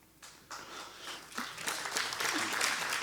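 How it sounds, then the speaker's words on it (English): A sermon audience at Rev. Christian Sorensen's service breaks into applause, starting thin and swelling into steady, moderately distant clapping from a sizable crowd. "I trust that applause is for bringing that awareness out and not keeping them in that place, right?"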